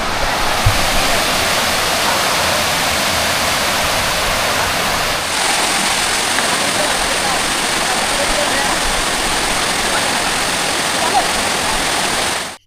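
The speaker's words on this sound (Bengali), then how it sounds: "দারুণ লাগবে এই ঝর্ণাটা দেখতে।" A monsoon waterfall in Purulia roars as a dense, steady rush of falling water that stays unbroken and loud throughout, with no pauses.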